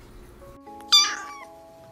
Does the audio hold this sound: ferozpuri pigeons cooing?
no